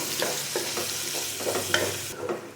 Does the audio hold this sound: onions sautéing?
yes